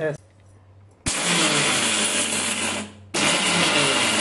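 A mixer grinder coarse-grinding sambar ingredients roars in two loud bursts, the first running about two seconds and the second starting after a brief drop, preceded by a short quiet stretch.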